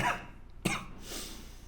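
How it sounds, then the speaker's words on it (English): One short, muffled cough bursts out once amid quiet indoor room tone, with a faint breathy sound just before and after. "I'm holding back a cough right now"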